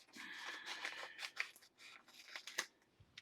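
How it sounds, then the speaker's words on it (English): Kitchen scissors snip through a packet while making boxed Hamburger Helper, giving a quick series of close, crisp cuts and rustles with no talking. "Take some good kitchen scissors."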